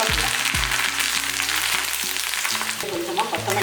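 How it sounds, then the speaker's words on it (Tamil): Ingredients fry in hot oil for a home-style sambar rice, giving a steady sizzle with bursts of crackle and low tonal clatter in the pan, close and fairly loud. "மீதி இருக்கிறதெல்லாம் நம்ம எண்ணெயில் போட்டு பொரிச்சிக்கலாம்"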